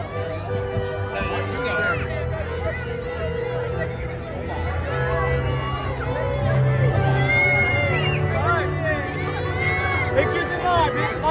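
A packed crowd at Citi Field for the 2023 Mets home opener, a loud, steady babble of many voices with scattered shouts and children's cries, close and continuous.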